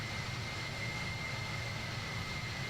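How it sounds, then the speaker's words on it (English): Steady, loud roar of a Boeing 767's jet engines in Microsoft Flight Simulator 2020, a continuous broadband drone with a faint high whine running unbroken throughout, no talk over it. "And this plane is like insanely loud, of course."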